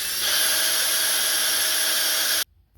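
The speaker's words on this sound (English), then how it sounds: "you can drill your holes with a brad point drill bit" A power drill with a brad point bit whirs steadily at high speed for a couple of seconds, drilling holes in leather, then cuts off abruptly.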